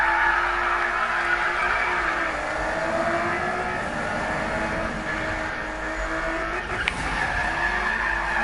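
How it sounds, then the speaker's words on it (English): In Need for Speed (2015), a car drifts with skidding tires that squeal over a steady engine roar. The sound runs loud and continuous, with no talking. "Check that out, perfect moment drifting."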